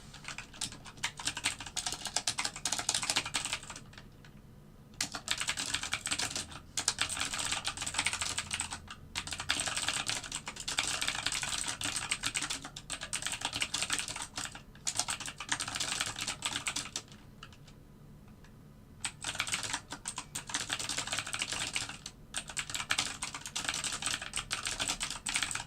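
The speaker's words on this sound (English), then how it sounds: "I'm amazed that keyboard is still functional." Rapid typing on a worn computer keyboard: dense, continuous clatter of keystrokes in bursts separated by brief pauses, close and alone without speech.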